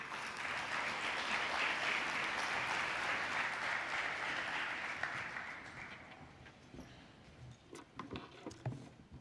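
An audience at a conference event applauds to welcome a panel speaker, with a loud, full burst of clapping that thins out over the last few seconds into scattered individual claps.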